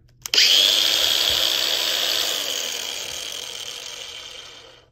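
A Harbor Freight Bauer cordless angle grinder clicks on and spins up to a loud, steady high-pitched whir, then slowly winds down over several seconds with no brake.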